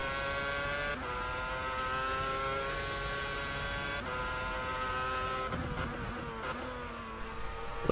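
An F1 car engine in the F1 2014 racing game at the Spanish Grand Prix screams at high revs near the limiter, with tonal pitch dips at each gear change and steady, close, loud output throughout.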